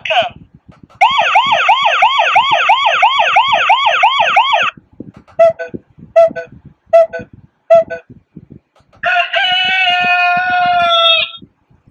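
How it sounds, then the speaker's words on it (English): A series of wireless doorbell chime ringtones plays one after another: a fast warbling melodic loop, several short separate dings, then a bright sustained jingle, all close and loud. "So here's a sample of some of the ringtones that you can get."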